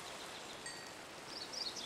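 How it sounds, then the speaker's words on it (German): Rainfall in Minecraft forms a soft, continuous hiss, steady and faint throughout, with no voices. "Toll, jetzt regnet es, wo ich gerade los möchte."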